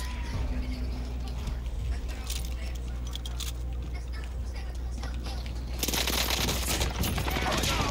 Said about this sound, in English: I'm not sure where these shots are coming from